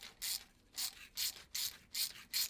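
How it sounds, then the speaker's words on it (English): A rusty bolt hole on a 1965 Impala is cleaned with a hand tool, six quick, evenly spaced raspy scraping strokes, close and fairly quiet with short pauses between. "I'm gonna clean the other hole here"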